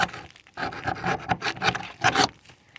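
Rusted sheet metal on the body of a 2004 Ford E350 shuttle bus being rubbed, with flaky rust crumbling away: close, dry scraping and rasping bursts in an uneven rhythm, separated by short pauses.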